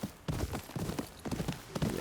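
Horse hooves clip-clop at a steady trotting rhythm through a Ghost of Yotei game scene, the sharp even strikes falling close together and moderately loud.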